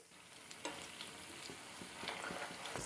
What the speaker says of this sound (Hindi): लो टू मीडियम आंच पर हम कबाब्स को फ्राई करेंगे।